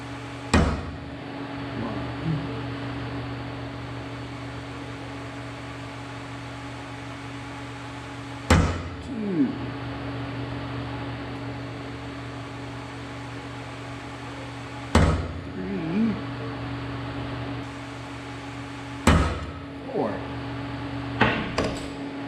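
Hammer striking a center punch into metal on an intake manifold, four sharp separate taps spaced several seconds apart over a steady low hum.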